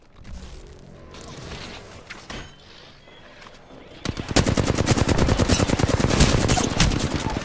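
Gunfire in the video game Apex Legends: after a stretch of muffled game noise, a loud, rapid, sustained burst of automatic fire erupts and keeps hammering on to the end.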